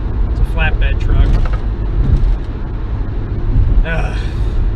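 Steady road rumble and wind noise inside a car cruising at about 60 mph on a highway behind a flatbed truck, continuous and loud, with someone talking over it throughout.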